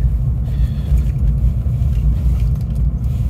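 A Porsche car drives slowly after a cold start, its engine a steady, loud low rumble heard from inside the cabin, with no talk.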